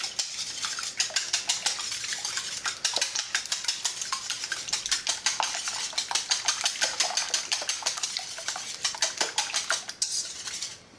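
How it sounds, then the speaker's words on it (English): Four eggs beaten in a bowl with a fork or whisk, a rapid, steady clatter of metal tapping against the dish at close range, continuing for several seconds with no talking. "we have 4 eggs that I'm going to beat right here"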